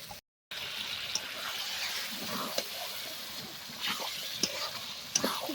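Meat tipped into a pot of oil-fried spices for haleem and stirred, giving a steady sizzle with scraping and clinks from the spoon, close and continuous after a brief gap.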